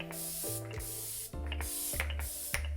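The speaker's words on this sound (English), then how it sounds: "I'm also going in with this NYX Bare With Me like Prime Set Refresh Spray." NYX Bare With Me Prime Set Refresh Spray misted onto skin in several quick bursts, each a close, bright hiss, separated by short pauses and with a faint rattle between sprays.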